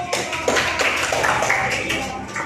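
A small group of students in a classroom clap briefly, a quick scattered patter of hands heard close up.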